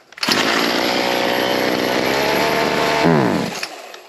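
A Ryobi C4618 chainsaw engine with its carburetor jets being set roars at a steady high pitch for a few seconds, then its revs sag and it sputters out into quiet as it runs out of fuel.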